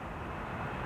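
An airliner departing Schiphol's runway 24, the Kaagbaan, bound for Nairobi, a steady broadband engine roar heard briefly from beside the runway.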